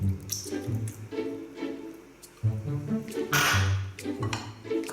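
Milk is poured into a bowl of pancake batter and stirred in, giving soft wet squishing and slopping with a few light clinks of utensil against the bowl, close and fairly quiet.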